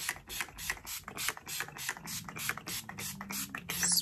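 Urban Decay All Nighter setting spray pumped from its bottle in a quick run of short, crisp mist bursts, each a hissing pump-and-spray click, repeated steadily at close range with no voices.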